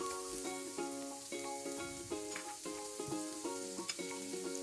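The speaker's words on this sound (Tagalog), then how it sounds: "Prituhin muna natin ang hipon. Pagkatapos, ilagay ang bagoong." Shrimp and then bagoong shrimp paste fried in a pan while cooking ginataang puso ng saging, a steady sizzle with stirring scrapes under background music.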